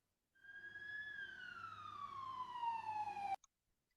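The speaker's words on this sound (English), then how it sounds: "or a fire truck siren." A fire truck siren wails in one long tone that holds and then slides steadily downward for about three seconds before cutting off abruptly, sounding faint and somewhat distant.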